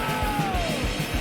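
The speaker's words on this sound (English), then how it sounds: "I guess it's just a scream." A brief yelling scream in a played song, roughly a second long and fairly loud over pounding drums and distorted guitars.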